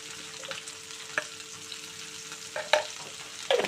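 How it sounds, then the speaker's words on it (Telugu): Sliced ivy gourd fries in a pan over a medium flame, giving a soft steady sizzle with a few sharper clicks of stirring, heard alone with no talking. "మనం కొంచెం మీడియం ఫ్లేమ్ మీద ఫ్రై చేసుకోవాలి"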